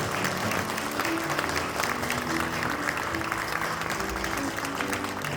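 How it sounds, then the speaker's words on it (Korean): A church congregation applauds at the close of an officers' dedication service at Anyang Sungsan Church, a dense, continuous patter of many hands clapping with faint voices beneath it. "같이 박수를 올려주세요."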